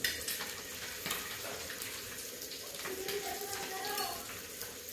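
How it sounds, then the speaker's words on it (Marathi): Eggs fry in a pan over low gas, giving a soft, continuous sizzle and crackle with occasional scraping of a utensil, while someone talks over the cooking. "मंद गॅसवर अंडे फ्राय करून घ्यायचे"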